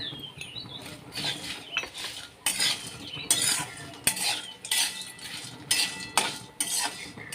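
Whole spices including cinnamon dry roasting in a pan over a low flame for goda masala, with rattling, tapping scrapes of the spatula in uneven bursts, close by and alone.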